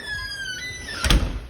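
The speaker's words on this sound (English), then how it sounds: "the doors close and lock better than what they did" A door swinging shut and latching in a church converted into a house, with a rising squeak followed by a solid close-range thunk near the end, no voices.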